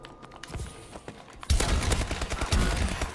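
An EM1 energy weapon fires in the video game Call of Duty: Advanced Warfare, a loud sustained burst of rapid shots starting abruptly after quieter game sounds and continuing to the end.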